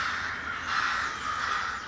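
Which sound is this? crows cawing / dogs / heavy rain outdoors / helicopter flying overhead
crows cawing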